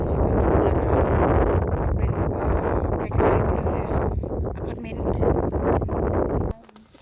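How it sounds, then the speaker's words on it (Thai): Strong wind buffeting the microphone in heavy, roaring gusts for several seconds on a high spot at Källö-Knippla, then cutting off abruptly near the end. "ลมแรงนิดนึง"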